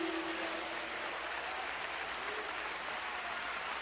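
A congregation applauds steadily during an evangelical church service in Portuguese, a dense, even wash of clapping from many hands that fills the space without pause.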